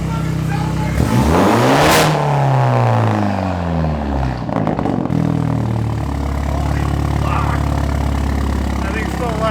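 A loud modified Toyota A90 Supra engine revs hard close by, sweeping sharply up to a roaring peak, then dropping back into a deep, rumbling idle that carries on steadily.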